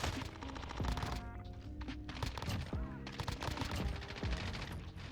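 Dense gunfire from a Warzone gunfight, with rapid overlapping automatic bursts and sharp shots filling the whole stretch at a steady, loud level, with no talk.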